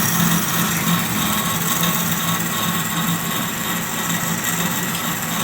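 An Amada HA-250W band saw with an electric chip conveyor and two-piece vises hums steadily through the whole stretch, a constant mid-level machine drone with a faint tonal whine and no pauses or voices.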